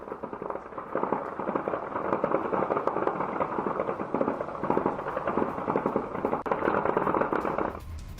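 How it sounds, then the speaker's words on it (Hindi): Dense, continuous crackling bursts like rapid explosions, heard across a city after a drone attack on an oil refinery, sustained and loud for several seconds before cutting off abruptly near the end. "हमले के बाद पूरे शहर में सुने गए धमाके।"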